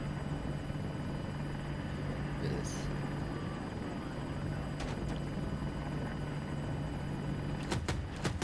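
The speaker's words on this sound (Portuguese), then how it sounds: "agora sobe o helicóptero" Apache attack helicopter climbing in Battlefield 2042, a steady loud rotor drone throughout with a few sharp clicks and bursts from the game near the end.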